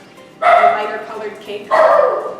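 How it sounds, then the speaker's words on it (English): A household dog barks twice in a kitchen, two loud drawn-out yelps about a second apart, while a person keeps talking through them during a spice cake recipe demonstration. "that's our dog, sorry about"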